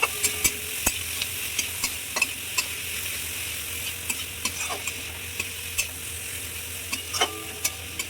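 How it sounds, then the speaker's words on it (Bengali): Shredded cabbage sizzles steadily in a hot tawa pan, with regular sharp clicks of a spatula stirring and scraping as the vegetables fry for tawa pulao. "দেখুন বাঁধাকপিগুলো দিয়ে দিলাম"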